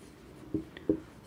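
Pen or pencil strokes on paper while working a school maths problem, two short soft scratches close by in a quiet room, no voices.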